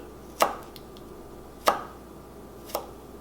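Three separate knife chops land on a cutting board while a vegetable is sliced for jambalaya, each a sharp, close knock spaced about a second apart, with the last one a little softer.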